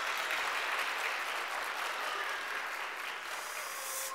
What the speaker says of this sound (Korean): 우리 축복하며 박수하도록 하겠습니다.